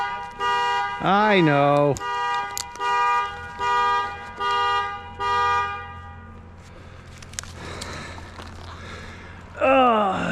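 A car alarm set off by the key fob in a pocket blares in rhythmic repeated honks with a rising-falling siren sweep, loud and close, with someone speaking briefly in between.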